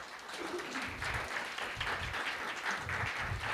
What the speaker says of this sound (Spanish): un aplauso por favor para todos.